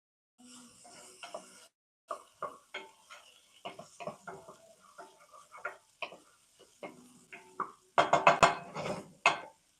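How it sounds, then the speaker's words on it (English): Onions go into a hot pan and are stirred, with repeated scraping and clinking strokes over a low sizzle, close and clear, building to a louder burst of frying near the end. "We're going to add in our onions."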